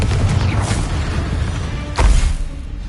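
Bombarda and Confringo spell blasts in a Hogwarts video game give a loud, close, booming burst at the start, then a second heavy explosion about two seconds later, with crackling debris in the gap.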